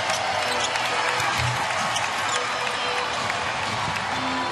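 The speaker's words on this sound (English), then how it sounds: "the Hawks fans now come to their feet to cheer Kyle Korver" Atlanta Hawks fans in an NBA arena rising to cheer Kyle Korver, a dense, steady roar of crowd cheering and applause with a basketball bouncing and a commentator talking over it.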